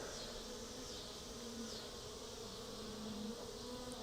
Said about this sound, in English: we've got a nice population of bees in here